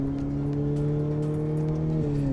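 Ferrari F8 Tributo twin-turbo V8 accelerating, a steady, strong drone heard from inside the car with the tone climbing gradually and one brief shift partway through, no talk.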